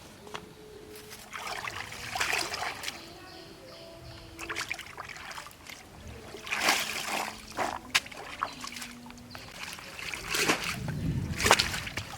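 Cut taro stolons being rinsed by hand in pond water, with irregular splashes, trickles and sloshing close by, louder bursts of splashing recurring through the clip.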